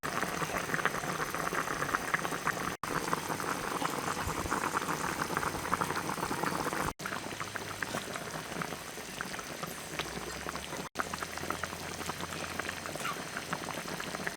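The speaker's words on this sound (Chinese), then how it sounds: "盖起锅， 给它炖1个小时以上" Red-braised oxtail simmers in a covered pot, giving a steady, close, continuous bubbling and gurgling with no voices, briefly cut off three times.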